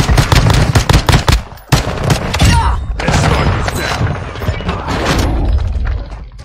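SMG gunfire in a video game, loud rapid bursts of automatic shots with thumping impacts, dense at first, a brief gap, then continued firing and heavy game sounds throughout.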